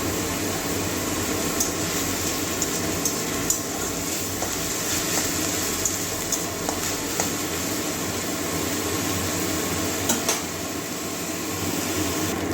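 Sliced onions with green chillies sizzling in hot oil in a pan, a steady loud frying hiss that runs throughout with occasional crackles.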